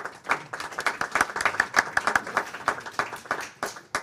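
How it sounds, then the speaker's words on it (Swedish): Light, scattered applause from a small audience at a tax reform panel discussion, soft and fairly distant, lasting a few seconds. "Försiktig applåd."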